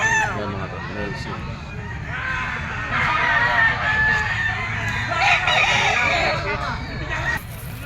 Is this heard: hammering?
no